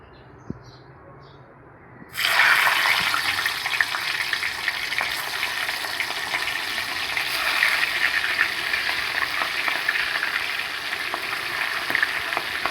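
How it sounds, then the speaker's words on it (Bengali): Prawns dropped into hot oil for frying burst into a loud, dense, crackling sizzle after a brief quiet start, then hiss and spatter steadily and close up throughout. "দেখো, এখানে তেলটা গরম হয়েছে। এবার চিংড়ি মাছগুলো আমি দিয়ে ভেজে নেব।"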